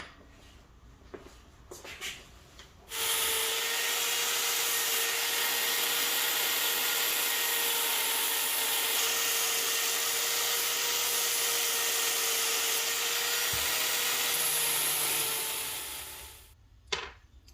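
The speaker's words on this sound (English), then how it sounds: "get a flat disc on here and get them all ground up ready for welding and drilling" A steady, loud abrasive grind of a flat disc against metal pieces for a Yamaha FZ6 custom build runs for about fourteen seconds with a sustained high whine, then cuts off.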